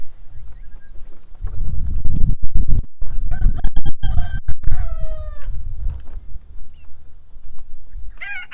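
Chickens on an off-grid homestead in South Africa make short squawks and clucks over rustling and shuffling nearby, with a rising call at the end.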